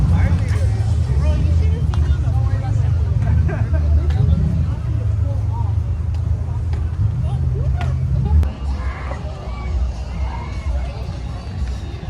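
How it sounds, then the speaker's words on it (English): Cars rolling slowly through a car show parade, a steady low engine rumble under crowd hubbub and cheering nearby, with people talking throughout. "I guess we're part of the car show now all of a sudden."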